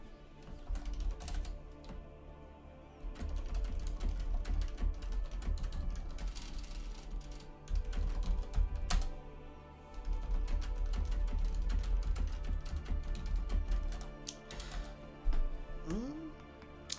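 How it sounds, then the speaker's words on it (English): Keyboard typing of a Discord message on a computer, a steady run of soft clicks and taps lasting throughout, with some background voices and noise mixed in. "I'm just typing out some stuff on Discord"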